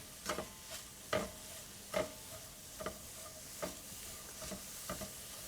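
Vegetable soup being stirred in a pot, with soft periodic scraping swishes of the spoon roughly once a second, quiet and close, over a faint steady background hiss.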